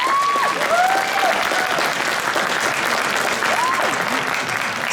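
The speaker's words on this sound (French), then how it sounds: "Donc on peut applaudir bien fort." An audience applauds steadily at a cosplay contest award ceremony, a dense, loud wash of clapping lasting throughout, with a presenter's voice faintly over it.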